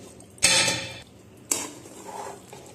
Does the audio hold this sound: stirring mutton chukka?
yes